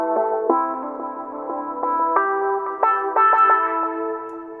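A synth line run through Ableton Auto Filter and delay, with an LFO modulating filter Q, delay feedback and dry/wet, plays a sequence of sustained tones whose timbre sweeps and echoes as each new note enters, alone without talk.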